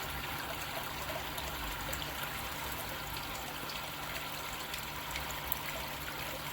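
Water trickles steadily from a fish tank's shower outlet, a constant close splashing stream with a low hum underneath and no talk.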